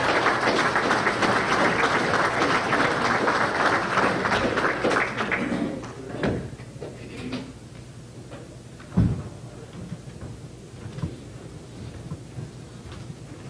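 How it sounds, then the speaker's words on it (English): A crowd at a community memorial event applauds, a full burst of many hands that fades out after about five seconds, followed by scattered bumps, a thud and quieter room noise. "let's give them another round of applause"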